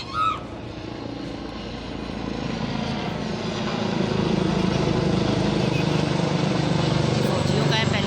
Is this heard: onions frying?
no